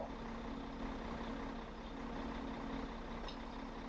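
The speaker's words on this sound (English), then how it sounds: "I want to park this noisy truck." A steady, droning truck engine in Farming Simulator 17 idles with a low rumble and constant hum, with no talking over it.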